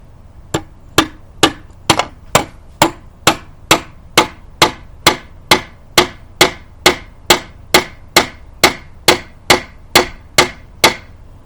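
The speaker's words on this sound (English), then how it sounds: "when I use the hammer and I hit the nail into the wood" A hammer strikes a nail into wood in a steady run of about twenty-five sharp, evenly spaced blows, loud and close, with no talking.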